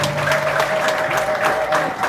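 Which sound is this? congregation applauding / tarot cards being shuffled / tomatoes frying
congregation applauding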